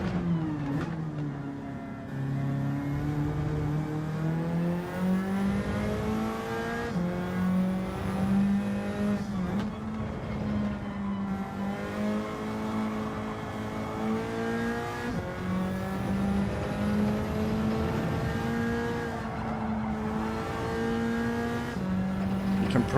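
Race car engine in Gran Turismo 7 holding a steady, loud tone that rises and falls with gear changes through a lap on medium tyres, running continuously for the whole stretch.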